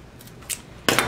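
Scissors cutting material for a ribbon-trimmed tutu, a couple of short crisp snips close by, the last one louder and sharper.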